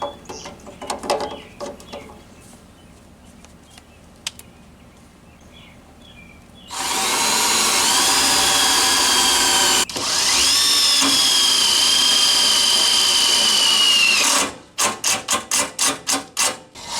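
A power tool tightens a set screw on a 7-pin trailer plug mounted in a Bullnose Bronco bumper: two long loud whirring runs, then a quick series of short ratcheting bursts, close by.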